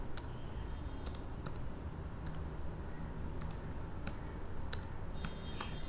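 Keys tapped on a computer keyboard while typing in InPage, scattered light clicks in short irregular bursts over a steady background hiss, fairly faint.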